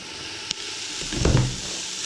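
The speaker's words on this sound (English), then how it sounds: "you can hear the sizzle really start to smell" A steady, soft hiss of chickpea curry ingredients frying in a pan, with a brief louder crackle near the middle.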